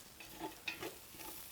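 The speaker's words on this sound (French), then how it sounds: "nos oignons et les gousses d'ail commencent enfin à bien colorer" Onions and garlic cloves frying in a saucepan for a mutton stew give a soft, steady sizzle, with a few light stirring scrapes. It is quiet and close, with no talking.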